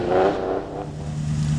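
A TVR race car accelerating on a hillclimb course at Loton Park, a loud, close engine roar that stays strong and steady for a moment with no voices.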